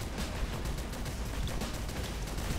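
Steady gunfire in the fast arena shooter Nexuiz during a capture-the-flag match, a dense, continuous rattle of shots at moderate level with no voices over it.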